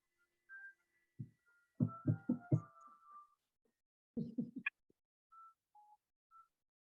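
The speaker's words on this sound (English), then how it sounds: "My phone's ringing" A phone rings during a Hebrew class, a few short bursts of electronic tones and beeps in quick patterns, separated by brief gaps in an otherwise quiet room.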